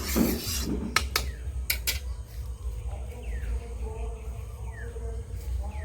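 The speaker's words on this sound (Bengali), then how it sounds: "কড়াটাকে সুন্দর করে ধুয়ে নিচ্ছি" A metal kadai being scrubbed and rinsed by hand in a kitchen, giving steady rasping scrapes with a few sharp metallic clinks near the start, close and continuous, with faint birdsong in the background.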